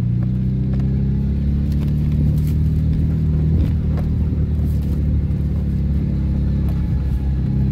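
Car engine rumbling and revving on a bad, dangerous dirt road in rural Urucuia, Minas Gerais, a close, continuous low drone with occasional bumps and knocks and no talking.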